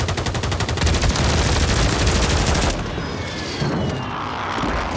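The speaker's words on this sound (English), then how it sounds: "I'm right in the airstrike, John." A precision airstrike in Call of Duty rains down as a loud, dense barrage of rapid explosions and gunfire that cuts off abruptly into a rumbling, fading aftermath.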